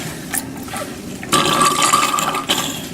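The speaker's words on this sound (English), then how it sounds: "make sure to rinse both the vials before putting them away" Water running and splashing while rinsing lab vials, short bursts of liquid pouring and sloshing with a louder gush in the middle, close by, no voices.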